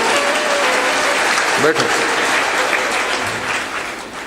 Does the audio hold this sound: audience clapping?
yes